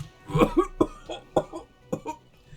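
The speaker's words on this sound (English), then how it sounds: "The aging cryptozoologist breaks into a hideous coughing fit." Aging cryptozoologist character in the video game Disco Elysium breaking into a coughing fit, a series of about six harsh, wet coughs in uneven bursts, close and alone.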